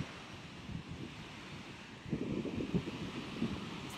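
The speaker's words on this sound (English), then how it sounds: "I'll have to talk a little loud because of the ocean." Ocean surf breaks along the shore under a steady wash of wind noise, with low rolling swells swelling louder partway through and no speech heard.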